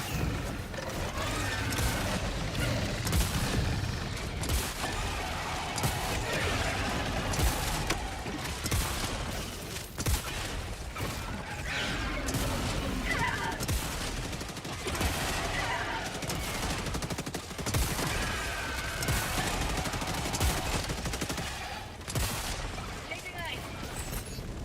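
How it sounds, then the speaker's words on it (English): Dense, rapid gunfire from an incendiary shotgun in Helldivers 2, mixed with other weapons in a chaotic firefight. Loud and continuous for the whole stretch, with voices faintly under the blasts. "The incendiary shotgun also sets it on fire, by the way."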